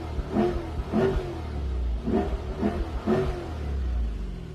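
A Chevrolet Corvette engine revs in repeated bursts, rising and dropping in pitch as manual paddle-shift gear changes come through. The sound is throaty and loud, close by over a low rumble.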